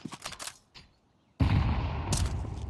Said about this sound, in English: Ooh, beautiful nade.